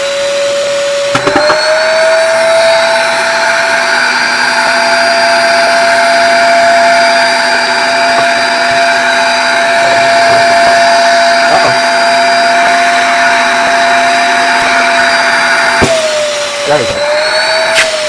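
A TACKLIFE 800W five-gallon ash vacuum cleaner, a single-setting on/off unit, switches on with a thump and runs loud and close as a steady high whine with a motor hum, then shuts off and winds down near the end.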